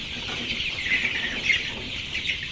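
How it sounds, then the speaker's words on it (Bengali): Colour bird chickens on a farm cluck and chatter in a dense, continuous flock sound at moderate volume, with no one speaking. "এই কালারবার্ড মুরগি থেকেই দিয়ে শুরু করবেন"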